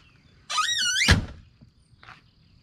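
A 2021 Can-Am X3 UTV door fitted with strut lifts swings with a rising squeal, then shuts with a solid thunk, followed by a faint rattle a moment later.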